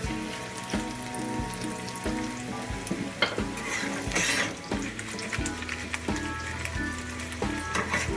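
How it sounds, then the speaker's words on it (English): Plantains sizzle and bubble in oil in a pan, a steady close crackle layered with faint tonal music and occasional soft knocks. "We're gonna let that simmer for a minute."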